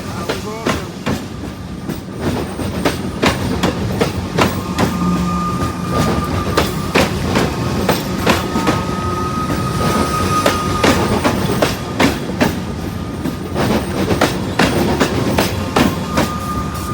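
A train rolls past close by in Melbourne, Australia, wheels clattering rhythmically over rail joints with a steady rumble throughout.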